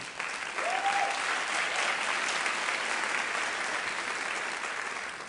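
Audience at a borough address in a hall claps steadily, a dense, even wash of applause that holds throughout with a brief tone in the background.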